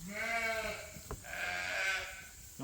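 A sheep bleats on a farm, a few drawn-out wavering calls close by, with no talking.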